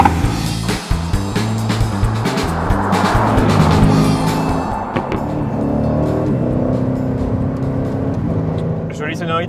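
A Mercedes-AMG 4-litre V8 in an Aston Martin DB11 sports car roars loudly through repeated gear shifts and revs, with tire noise and strong low rumble throughout.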